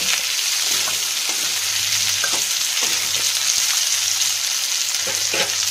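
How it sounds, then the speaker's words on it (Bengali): Potato pieces fry in a pan for a Bengali fish-head muri ghonto. A loud, steady, close-up sizzle carries on throughout, with light stirring clinks scattered through it. "আলুটা একটুখানি ভাজবো।"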